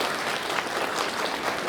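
Dense, loud applause from a business conference audience for the Yes We Can team, continuous clapping from many hands filling the room without any voices on top.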